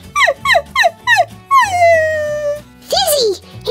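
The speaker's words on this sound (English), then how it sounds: "Look! There's a doggy here." A cartoon dog whimpers and cries in four quick, rising yelps, then lets out a long drawn-out whine and one last higher whimper, loud and close with no talk over it.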